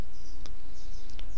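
A few sharp computer mouse clicks, spaced apart, as the Next button is clicked during a MySQL setup for a World of Warcraft AzerothCore server, over a steady low hum.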